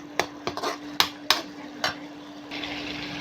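Snail curry with ginger-garlic paste being stirred in a pan, a spoon scraping and clinking against the metal in several sharp strokes, over a faint steady hum and soft frying.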